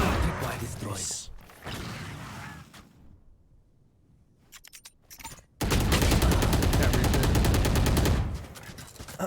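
Video game gunfire comes in scattered shots early on, falls to a near-quiet lull, and then erupts into a loud, dense burst of rapid automatic fire lasting several seconds. A voice talks in places.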